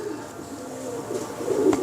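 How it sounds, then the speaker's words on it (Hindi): Pigeons coo softly in a low, throaty murmur at a pigeon-keeping loft, several overlapping calls rising slightly near the end, with one sharp click. "कामरान, मैंने उड़ा के डाले हैं कबूतर"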